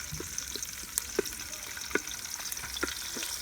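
Onions fry for a fish sauce during outdoor cooking, a soft, steady sizzle with scattered small pops and taps, fairly faint and without talk.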